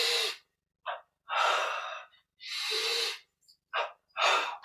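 Close, forceful breaths during a yoga breathing exercise: about six separate airy bursts of breath, some long and some short, with silent gaps between them.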